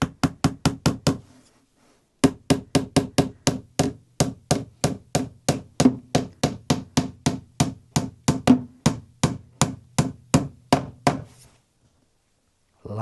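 A hammer taps panel pins into wood in a fast, even series of sharp knocks, a short burst, a pause, then a long steady run of close, crisp strikes.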